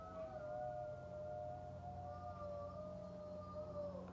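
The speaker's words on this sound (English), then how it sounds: "The kids and the dog howling." A dog and children howl together in long, wavering sustained tones that rise and glide, fairly faint and steady over a low background hum.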